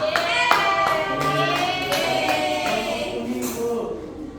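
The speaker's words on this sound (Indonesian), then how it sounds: "tepuk tangan untuk kelompok" Classroom clapping for a student group during a science lesson, a handful of irregular hand claps mixed with children's voices and chatter in a busy room.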